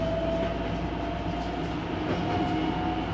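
Steady rolling rumble of a train heard from inside a carriage while riding through Kyoto, a continuous dense drone with faint wheel clatter and a thin tonal whine throughout, no voices.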